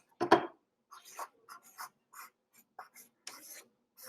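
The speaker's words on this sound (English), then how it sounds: "So I can write here that Nate lost control." Pen writing on paper in short scratchy strokes, a firmer first stroke followed by a series of lighter, separate bursts, close and quiet with no talking.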